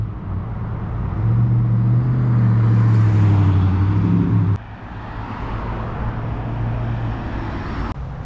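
A car driving along a road, with a steady engine drone and tire roar rising and then dropping after a bump, continuing as a close, even rumble.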